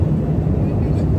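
Steady low engine drone of a chartered airplane in flight, loud and close as heard from the cabin, constant without change for the brief stretch.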